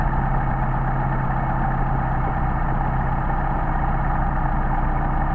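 A Mercedes 190SL engine on Solex carburetors idles steadily and loudly up close, a continuous low rumble with no talk over it.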